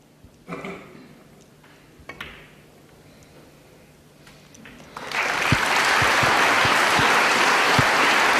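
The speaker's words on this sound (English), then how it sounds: "Generous round of applause from the audience" At a professional snooker match, the audience gives a loud, sustained round of applause for frame and match. It starts abruptly after a few quiet clicks and soft commentary and keeps going steadily to the end.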